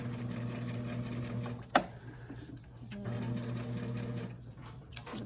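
A sewing machine stitches a romper in two quiet, steady runs of rapid mechanical whirring, broken by a sharp clack and a short pause between them; no talking.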